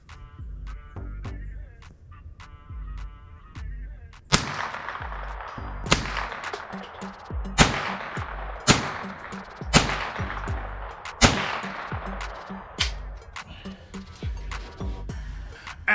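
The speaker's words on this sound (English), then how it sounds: "Oh, did you think I was gonna let you get away without some sort of freehand shooting?" Ruger 10/22 rifle fired freehand at a 200-yard target outdoors, a series of sharp cracks spaced a second or two apart, each followed by a short ringing decay.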